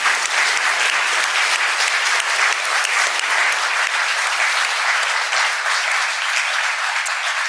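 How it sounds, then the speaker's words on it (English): An audience applauding a panel at the close of an evening event, a loud, sustained, even roar of many hands clapping that runs unbroken throughout, with no speech over it. "Let's give a round of applause to our panel tonight."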